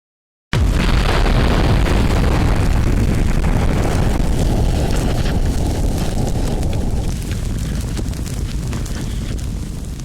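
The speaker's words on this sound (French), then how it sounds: "L'Alfa Romeo explose devant mes yeux dans une déflagration qui la souffle et la soulève de terre" An Alfa Romeo car blows up in a single huge, close blast that erupts at once, then settles into a long, roaring rumble of fire and debris that slowly fades.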